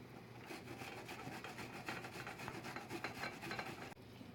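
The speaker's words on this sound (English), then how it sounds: "easy to use chunks and just run it along the small edge of the grater." Chunks of food scraped back and forth along the small edge of a kitchen grater, making a steady close rasping rub with quick repeated strokes and no talk.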